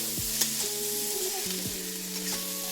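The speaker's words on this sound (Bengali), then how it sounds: "ভালো করে ভেজে নেব।" Pasta frying in a hot pan and being stirred, a steady loud sizzle with a few scrapes of the utensil against the pan, close up and without speech.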